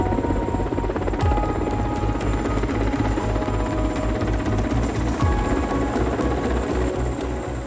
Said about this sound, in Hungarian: Kettő órás repülőút végén szerencsésen földet ért a helikopterünk.